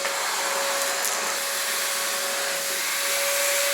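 A Milwaukee M18 6-gallon cordless wet/dry vacuum runs steadily up close, a loud continuous motor whine with a sharp tonal hum and broad airy rush that holds even throughout.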